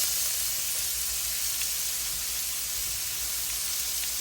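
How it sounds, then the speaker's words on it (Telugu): Mung bean leaves dropped into hot sizzling tempering oil for a Telugu dal, giving a steady, dense crackling hiss that stays even and close throughout, with no voices. "పోపు వేగుతున్నప్పుడు ఇందాక నేను కోసుకొచ్చిన పెసరాకు వేస్తున్నా చూడండి"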